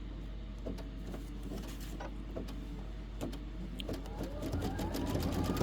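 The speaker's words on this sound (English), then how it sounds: "it's going to stitch out all this that you see here in white" A Kimberbell embroidery machine stitches out a design, giving a fast, steady mechanical clatter with rhythmic needle ticks, close and fairly quiet, with a rising whir creeping in toward the end.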